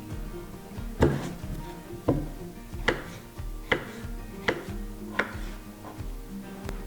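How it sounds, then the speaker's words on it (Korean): A knife chops potatoes on a cutting board in about seven firm thuds spaced roughly a second apart, close and distinct against a quiet kitchen background. "이 감자를 썰어서 좀 끓여 볼게요"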